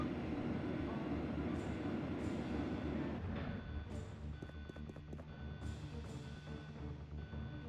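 Train rumble at a station platform in the Resident Evil 2 video game, a steady low mechanical drone filling the whole stretch with faint clattering detail, no voices.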